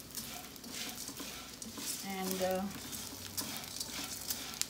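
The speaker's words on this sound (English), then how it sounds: "frying very well with the ghee." Edible gum (gond) frying in hot ghee for healthy ladoos gives a steady, busy sizzle with a stirring scrape, close and continuous, while a voice speaks briefly.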